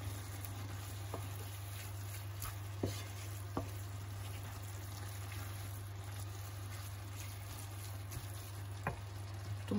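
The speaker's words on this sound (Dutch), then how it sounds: "En dit meng je samen." Filling with spices being mixed and fried in a pan, a steady quiet sizzle over a low hum with occasional light taps and scrapes of the spoon, close and alone without speech.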